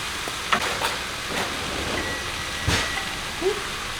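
Spinach wilting and cooking down in a hot pan, giving a steady broadband sizzle with a few soft stirring knocks and clicks scattered through, fairly close and with no talking.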